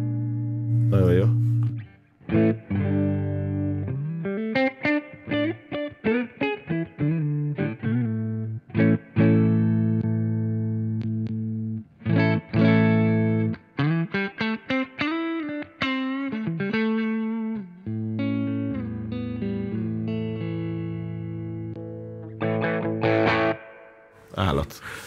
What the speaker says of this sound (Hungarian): Itt ezek már torzítottak.